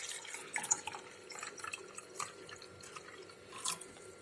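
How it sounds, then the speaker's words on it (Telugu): Half a glass of water from a clay pot is poured in soft, faint splashes and drips that come and go in small bursts against a quiet room. "ఇక్కడ 1/2 glass కుండ వాటర్ నేను తీసుకుంటానా."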